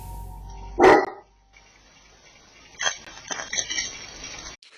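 A single loud dog bark near the start, close by, followed by quieter shuffling and handling noises.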